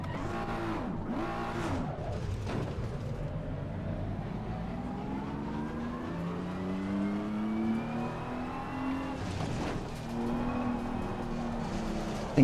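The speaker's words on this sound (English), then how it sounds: "Got a car coming through." A race car in Assetto Corsa Competizione sweeps past with a rising and falling engine whine, loud revving bursts at the start and end framing a long, smooth pass-by with gear changes.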